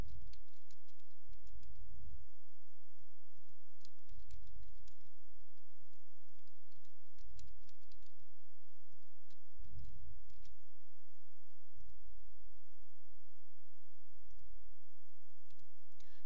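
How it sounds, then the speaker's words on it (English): Computer keyboard typing and mouse clicking while field names are entered into a table design. Quick, light key clicks come in short bursts, with soft thumps recurring every couple of seconds, close-up and fairly quiet throughout. "Click on the next row to continue typing another field name."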